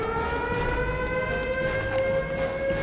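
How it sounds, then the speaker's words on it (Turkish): In the Return to Castle Wolfenstein video game, an alarm siren blares continuously with a loud, steady wailing tone that holds throughout without a break. "susturamadık şu alarmı ya"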